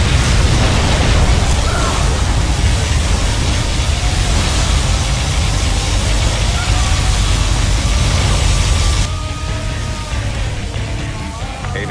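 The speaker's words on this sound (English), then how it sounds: "Particle cannon activated." Particle cannon strike in Command & Conquer Generals Zero Hour: a sustained, loud roar of blasts and rumbling explosions filling most of the stretch, then easing slightly into lower battle noise near the end.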